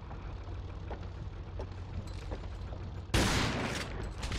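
A shotgun in Resistance 3 blasts once at close range, sharp and loud, after a stretch of low battle ambience with faint distant pops, leaving a lingering noisy tail.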